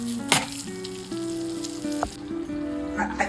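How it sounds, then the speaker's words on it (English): Thirty grams of unsalted butter sizzling and melting in a heated pan for a bechamel, a soft continuous hiss and fizz with a few small pops and a faint clink of the pan, close by and without speech. "to this heated pan here I'm adding 30 grams of unsalted butter. Let's give it a little swish around to help it to melt."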